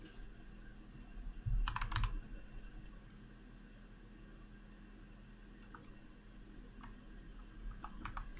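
Fingers typing on a computer keyboard while setting up a game server: soft, quiet key clicks in short scattered bursts over a steady background hum, with no talk.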